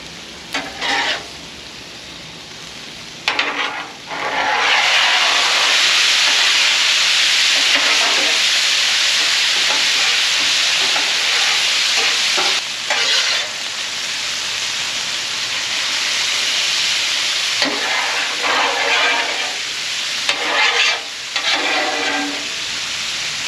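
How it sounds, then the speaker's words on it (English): Water poured onto a hot griddle with meat and onions bursts into a loud, sustained steam hiss and sizzle, with intermittent scraping and stirring clatter over the top. "I'm going to put a little water down in the meat. Let that steam out and kind of steam the onions a little bit."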